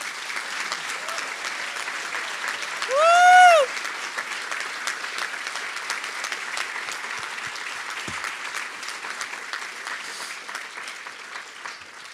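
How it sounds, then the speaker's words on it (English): An audience at a community changemakers awards event bursts into steady, sustained applause that fills the room for the whole stretch, with a brief whistle-like cheer rising near the start. "let's give her a round of applause"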